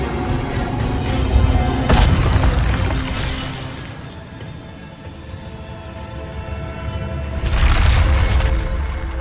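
In the video game Hogwarts Legacy, the Incendio fire spell bursts with a deep, booming whoosh and a long rumbling roar that swells, fades, then surges again near the end.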